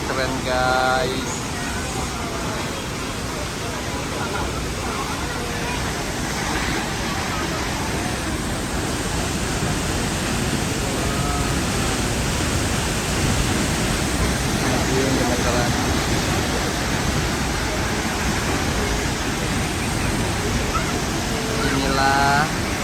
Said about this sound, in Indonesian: air terjun Telun berasap